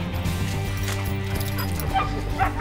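Hunting dogs bark loudly and continuously during a leopard hunt, their overlapping yips and whimpers forming a dense, steady chorus close by.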